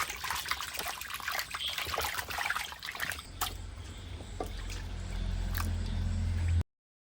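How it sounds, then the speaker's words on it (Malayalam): Water splashes and trickles as snakehead (varal) fish are washed in a bowl. The sloshing is steady and close, then gives way to a low steady hum before cutting off. "നമുക്ക് ഇതിനകത്തേക്ക് കുറച്ച് വെള്ളം വെച്ചിട്ട് നന്നായിട്ടൊന്ന് കഴുകിയെടുക്കാം."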